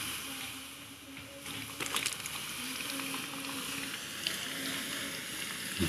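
Stones heated in a fire during gold recovery crackle and pop with small bursts over a steady sizzling hiss, moderately close, with no speech.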